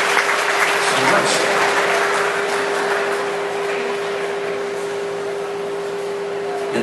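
Audience applause for contestants at an Elvis festival awards ceremony, a continuous wash of clapping that starts strong and eases slightly, with a steady hum running underneath.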